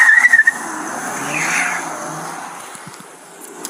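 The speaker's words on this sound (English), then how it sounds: "vehicle just took off." A car fleeing a police traffic stop, with tires squealing and skidding as it accelerates away, loud at first and then fading as the engine noise recedes.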